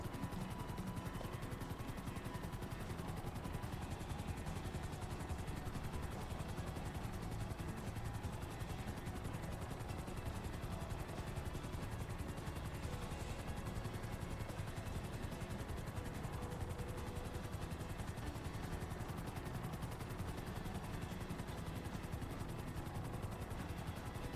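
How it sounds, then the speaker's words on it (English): Steady, continuous video game helicopter rotor drone on a FiveM server, with a dense rumbling texture, holding at an even level throughout with no voices. "So if you want taxis that are helicopters, we got you covered."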